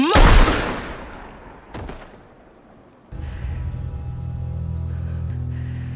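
A single loud gunshot from a pistol in a film cracks at the very start and decays into a rumbling echo, followed by a fainter thump and then a sustained tense musical drone.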